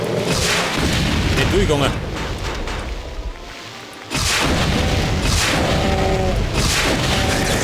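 Shelling explosions in Brutal Doom make loud, continuous booming blasts that pile up over dense game noise, with a brief dip before the barrage resumes, and someone speaks over them.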